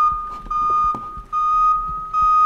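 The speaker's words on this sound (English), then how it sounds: "Who has a fire alarm that sounds like that?" An electronic fire alarm sounds a steady, piercing high-pitched tone in long pulses broken by short gaps, loud and close, with faint bumps and movement underneath.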